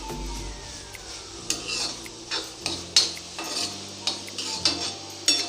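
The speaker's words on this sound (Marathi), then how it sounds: "व्यवस्थित परतून घेतोय आपण हे" A spoon scrapes and turns soft tomato masala in a pan for prawn curry over a low flame, with about ten regular stirring strokes over a faint sizzle and a low background hum.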